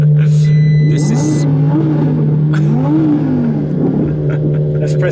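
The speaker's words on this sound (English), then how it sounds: "Let's press the exhaust button as well. Yeah, pops and bangs." An Audi R8 V10 Plus revs hard with the exhaust button engaged. The engine rises and falls in loud pitch sweeps over a steady tonal drone, and there are sharp popping bursts near the start. Voices are faintly audible underneath.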